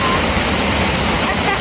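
A waterfall roars up close, a loud dense continuous rush of falling water filling the whole moment with no break.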